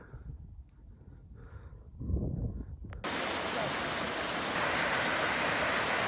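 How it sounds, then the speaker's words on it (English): A roughly 25-foot waterfall in the southern New York woods along the Appalachian Trail, heard as a steady, broad rushing roar that swells louder after a few seconds of quieter wind and movement. "So this is like a 25-foot waterfall, and that looks like a little stream"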